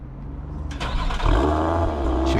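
A Lotus car engine cranks briefly and fires into a loud, rumbling idle heard up close near the exhaust, with no talking over it.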